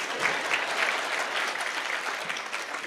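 A crowd at a county security forum in Murang'a claps steadily throughout, a dense, even burst of applause with no pause.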